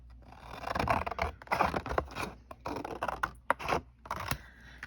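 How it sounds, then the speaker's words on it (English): Scissors cut a Tim Holtz Idea-ology file folder in half with a close series of crisp snips and papery scrapes, uneven bursts of cutting separated by short pauses. "we're going to cut this in half"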